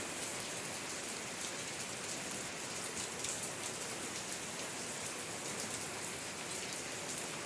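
Steady rain pours down, a dense even patter of drops on surfaces with no letup and no voices.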